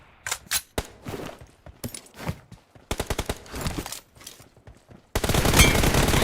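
Gunfire in the mobile shooter PUBG BGMI, with rapid automatic bursts and separate shots in quick succession, loud and close, followed by a dense continuous roar of fire at the end.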